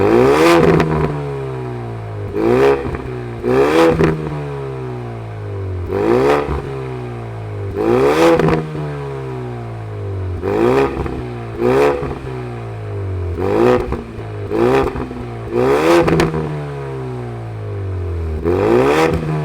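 A 2020 Ford Mustang EcoBoost High Performance Pack engine idling close by, blipped in a series of sharp revs, about a dozen short bursts rising and falling over the steady idle.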